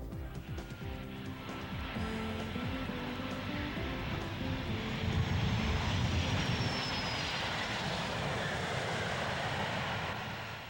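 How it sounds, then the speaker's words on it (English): A Qantas Boeing 747 airliner in a crazy quilt paint scheme flies in at the EAA Oshkosh 1995 convention. Its engines make a broad, continuous roar that swells slightly midway and holds steady throughout. "This Qantas 747 with the crazy quilt paint scheme came all the way from the land down under."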